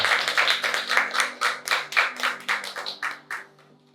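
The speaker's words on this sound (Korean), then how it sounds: "우리 박수로 하나님께 영광 드리겠습니다" A church congregation claps together at the close of a Sunday worship service, a steady run of distinct hand claps that gradually thins out and stops after a few seconds.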